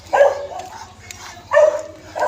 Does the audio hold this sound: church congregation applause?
no